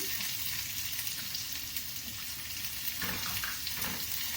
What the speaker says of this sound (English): While the garlic is cooking, we will add the onions, saute them.